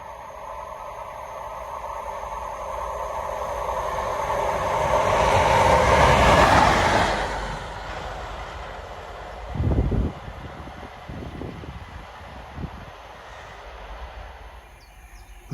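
A Network Rail test train passes through a station, its roar building to a loud peak and then fading, followed by a few rumbling thumps from the wagons.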